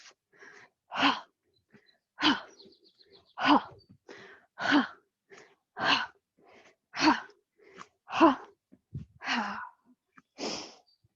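A yoga class doing a quick explosive breathing exercise, with about ten sharp, forceful exhalations in a steady rhythm roughly a second apart, close and fairly loud, with softer breaths in between.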